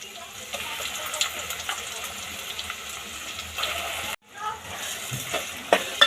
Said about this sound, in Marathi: आता आपण हे पूर्ण व्यवस्थित तेलामध्ये परतून घेऊया